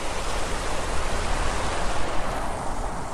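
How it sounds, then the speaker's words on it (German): Small sea waves breaking on a rocky shore in Gran Canaria, a continuous close hiss and wash of surf with a gently swelling roar and no talking. "Könnt ihr es hören, das Meer?"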